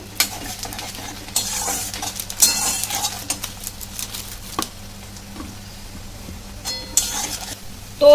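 Onions frying in hot oil with nigella seeds in a pan, a loud, close, continuous sizzle with repeated stirring scrapes and metallic clinks of a spoon against the pan.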